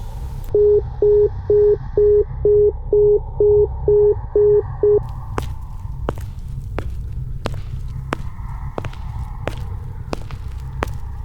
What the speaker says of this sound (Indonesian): Dan suara telepon itu pun tiba-tiba terputus.